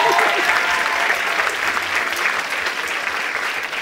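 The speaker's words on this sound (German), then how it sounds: "Ein Applaus für den Josh." Steady audience applause at a live German game show, loud and dense throughout with no pauses, the crowd clapping continuously for a contestant.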